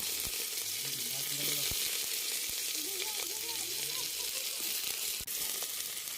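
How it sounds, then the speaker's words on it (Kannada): Onion and green chillies frying in hot oil for a pork gravy give off a steady, close sizzle and hiss with faint stirring, and no one speaks. "ಇದನ್ನ ಒಂದು ನಿಮಿಷ ಫ್ರೈ ಮಾಡಿ"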